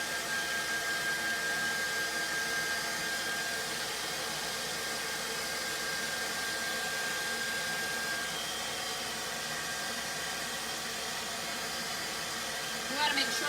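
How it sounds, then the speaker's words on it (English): A dryer blowing on a freshly painted barn door, a steady close hiss and whoosh of air that runs unbroken throughout. "let me hit this real quick with the dryer"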